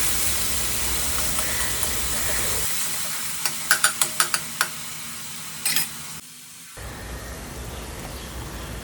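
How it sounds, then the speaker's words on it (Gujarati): Onion, garlic and ginger paste hits hot tempering oil with a broad hiss, then a few sharp ticks and spits crackle before the sizzle drops away into quiet kitchen noise. "ડુંગળી, લસણ અને આદુની પેસ્ટ બનાવી છે તે વઘારમાં નાખી દઈશું"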